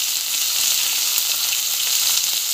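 Vegetables and mango sautéing for a mixed vegetable sambar make a constant, close, bright sizzle with faint stirring under it, steady and unbroken.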